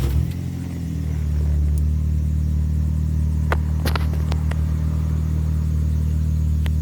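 A 2007 Nissan Almera N16 with the cable-throttle QG15 engine, running rich, starts and settles into a steady, low, close idle rumble that holds alone, with a few faint clicks over it.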